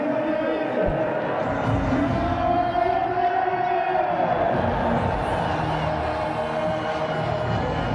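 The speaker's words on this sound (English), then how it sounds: "Celebration in the crowd for the Zalmi supporters." A cricket stadium crowd at a Pakistan Super League night match, Peshawar Zalmi against Quetta Gladiators, roars and cheers steadily for the Zalmi supporters, a dense continuous wash of noise with a rising whoop midway and no pause.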